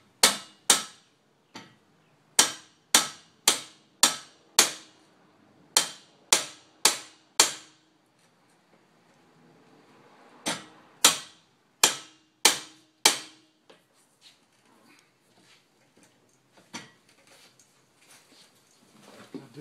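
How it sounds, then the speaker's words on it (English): A hammer drives a big screwdriver between the side of a hose coupling and its expansion ring. Sharp, close metallic strikes come in rapid bursts of several blows with short pauses between them, then turn into fainter taps. "You want to drive that screwdriver in between the side of the coupling and the expansion ring in there."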